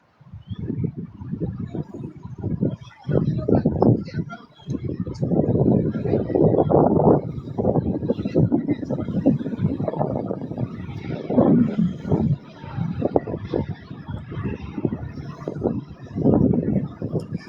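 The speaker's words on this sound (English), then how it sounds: "I'm out in the open here, and it's windy out here" Gusty outdoor wind buffets the microphone in uneven, rumbling low bursts, loud and close, rising and falling over the whole span with no clear voice above it.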